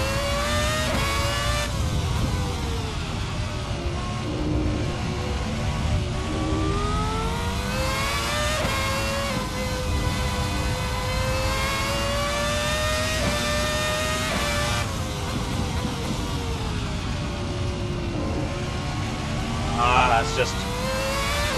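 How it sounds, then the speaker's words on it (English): A race car engine in a sim racing game revs hard and climbs through the gears, loud continuous rising whines with brief dips at each shift, while someone talks over it throughout. "It's almost a shame to change gear. The engine sounds wonderful and running great."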